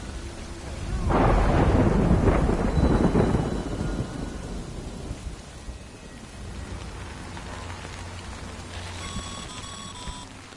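Heavy rain and rolling thunder in the video game Death Stranding, a loud deep rumble swelling early and slowly fading under a steady rain hiss.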